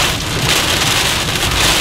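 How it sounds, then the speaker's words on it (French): Hail pounding down during a severe spring storm with tornadoes in northeast Texas or northwest Louisiana, a dense, steady hiss and clatter filling the whole moment, loud and close with no voices. "Il y a de la grêle partout"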